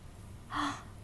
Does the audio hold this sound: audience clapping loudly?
no